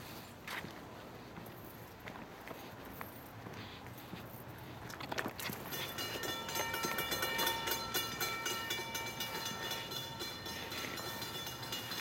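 An NJ Transit train approaches and passes at the Ho-Ho-Kus, New Jersey station, rumble building as it nears, then loud rolling wheels and clattering cars with squealing tones, close by and alone.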